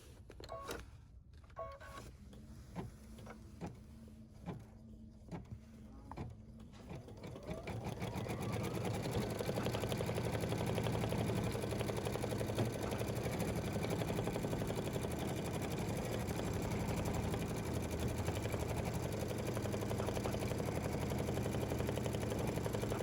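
An embroidery machine stitching a text design, first a few short separated bursts of needle clatter, then a steady loud continuous whirring hum of stitching that runs on alone.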